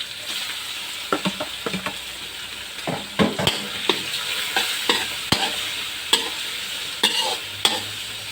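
Squid fries in a pan with a steady sizzle, while a utensil stirs and scrapes the seafood in irregular clicks and knocks, close up with no talk.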